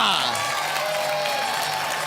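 Studio audience applause and cheering fill a TV show stage as a dense, steady wash of clapping, with music or voices running underneath throughout the short burst.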